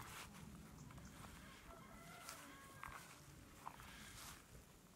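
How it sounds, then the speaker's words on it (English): A cockerel in a garden with daisies and buttercups, faint clucks and soft calls at a distance over quiet outdoor background noise. "Even the cockerel behind me likes it."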